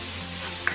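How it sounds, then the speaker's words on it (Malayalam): Onions and other ingredients for upma are sautéed and stirred in a pan over a high flame, giving a brief, steady sizzle with a faint scrape near the end. "ഇത് ഫ്ലെയിം കൂട്ടി വെച്ച് തന്നെ നമ്മളൊന്ന് വഴറ്റിയെടുക്കണം"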